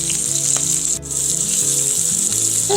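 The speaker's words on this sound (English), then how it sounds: "So let's let our steak continue to cook." New York strip steak sizzles loudly and steadily in a hot sauté pan, a dense continuous frying hiss with a brief dip partway through, no voices.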